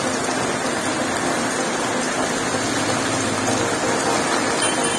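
Heavy, unexpected rain pours steadily in a Kerala village, a dense, constant hiss close by and uninterrupted from start to end, with no distinct thunder clap standing out.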